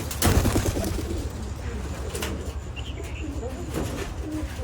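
Pigeons cooing steadily at a pigeon farm, a low rolling murmur of many birds close by, with brief human voices and faint chirps mixed in.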